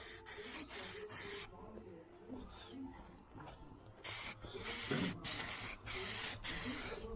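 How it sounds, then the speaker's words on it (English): Several hissing bursts from a spray can applying coats to upholstery for 1978 El Camino SS bucket seats, short and close, separated by pauses with faint rustling between. "let me spray a few coats on there"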